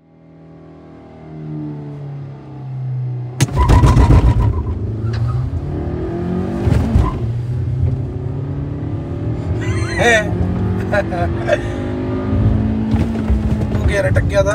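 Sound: Tata Nexon and Hyundai Creta launching in drag race

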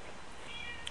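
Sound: cat meowing

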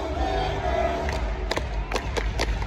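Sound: crowd cheering at a Clippers basketball game

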